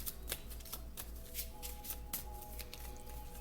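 Tarot cards are shuffled by hand in a steady flurry of riffling, slapping strokes, close and fairly loud over a faint low hum, with no voices.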